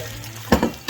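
An egg drops into a hot oiled non-stick pan for a breakfast taco and bursts into a loud sizzle partway through the clip, over a quieter, steady frying hiss.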